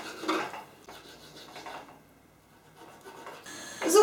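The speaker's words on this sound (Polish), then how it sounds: "Boczek kroję w kostkę." A knife dices bacon into cubes on a cutting board while a pea soup is cooked, giving soft irregular chopping and scraping taps spread across a few seconds, fairly quiet with a sharper clatter at the end.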